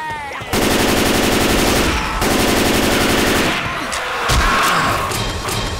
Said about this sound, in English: Come after me and my flame sentry. Defend me, sentry! Open fire!